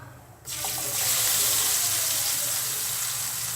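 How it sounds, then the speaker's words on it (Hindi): Boiled chickpeas tipped into a hot pan of chana masala spices, setting off a sudden loud, steady sizzle and watery hiss that carries on close by without pause. "ये जो हमने छोले उबाल रखे थे, उसके बाद ये छोले उसमें डाल देंगे"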